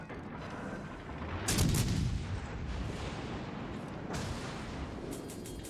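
Naval gun salvos booming in the World of Warships Legends game, a continuous rumble of firing with two louder blasts of heavy artillery rising above the steady battle noise.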